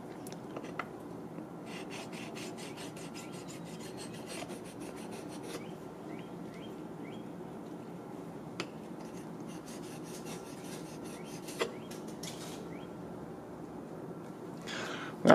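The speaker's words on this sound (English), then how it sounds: "what we're going to go ahead and do is get rid of that burr" Burr being removed from a Japanese chisel on a stone, a quiet run of fast rhythmic rubbing strokes, close up, with a few faint clicks and taps and no talk.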